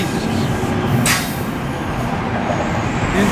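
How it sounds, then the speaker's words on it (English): An eastbound Newark City Subway light rail train passes close by, its continuous loud rumble and wheel-on-rail roar steady throughout with a brief high screech near the start. "And another train headed east"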